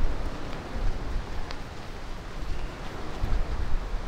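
Large waves breaking at sea beside a wooden outrigger boat, a continuous rough wash of surf and wind noise, fairly loud and close with no voices.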